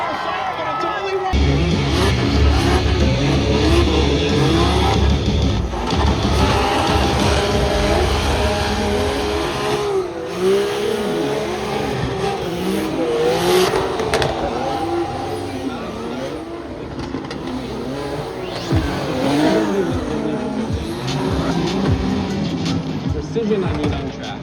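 Drift car at a Formula Drift event, engine roaring and revving with tire noise across the track, loud and continuous, with crowd noise and commentary talk mixed in.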